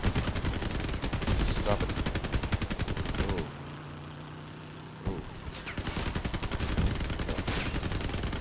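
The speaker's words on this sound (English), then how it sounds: "Let's get up there, shooting at my buddy." Rapid automatic gunfire in a video game rattles loudly in sustained bursts, breaks off briefly for a quieter moment, then resumes, with a short spoken line mixed in.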